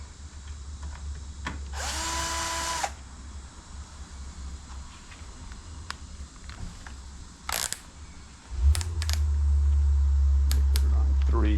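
A power drill driver set to a low torque clutch setting, used while assembling a Lauf Uthald Ultimate bicycle, whirs in one loud burst near the start, followed by faint clicks and a low steady hum.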